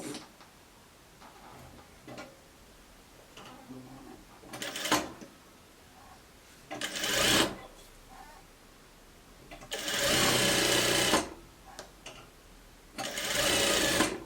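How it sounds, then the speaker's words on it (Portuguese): A sewing machine stitches a shirt in short bursts of rapid mechanical whirring, four separate runs with the longest lasting about a second, separated by quiet pauses with faint ticks and handling noises. "Aí sim, a gente vem e costura."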